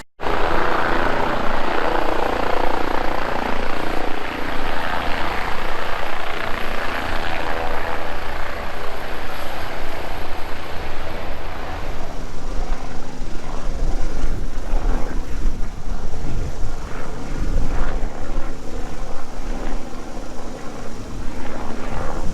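An air ambulance helicopter at Cadwell Park race track during a trackday: a loud, continuous rotor and turbine drone that holds steady for over twenty seconds, close overhead with no talk.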